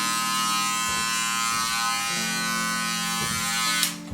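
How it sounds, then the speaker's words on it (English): Electric hair clippers buzz steadily and close during a clipper-over-comb pass on a skin fade haircut, the hum continuous with slight dips as the comb moves, then a brief rustle at the end. "so we'll just do a little bit of clipper over comb"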